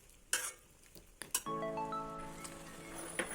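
A spoon stirring buttermilk into cooked avial vegetables in a metal pot, with a few sharp clinks against the rim followed by a ringing metallic tone and soft scraping, no talking.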